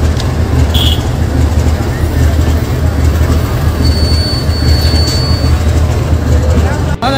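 A train rumbling loudly along the tracks at Sangrur railway station, a continuous heavy roll of wheels on rails with a faint squeal near the end.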